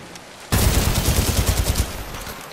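Rapid automatic gunfire erupts suddenly in the first-person shooter Titanfall 2 on PS4, a loud dense burst of shots lasting about two seconds before trailing off, with no talk.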